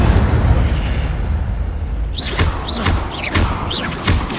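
An Incendio fire spell is cast in Hogwarts Legacy: a loud, rushing roar of flame gives way to a string of sharp whooshing bursts and pops, close and dense with game sound effects.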